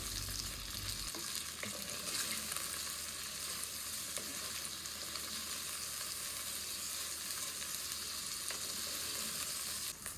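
Small shallots sautéing in a pan, giving a constant dense sizzle and crackle that stays even and close throughout, with no voices.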